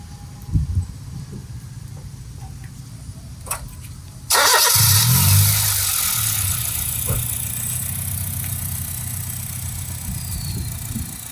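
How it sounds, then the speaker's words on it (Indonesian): A Honda Jazz S GE8 with a stock engine cranks and catches, then settles into a steady, smooth idle that hums on without pause; a few soft knocks come before the start. "beginilah mesin standar. Paling istilahnya mau bersuara halus, kita cek sound suaranya"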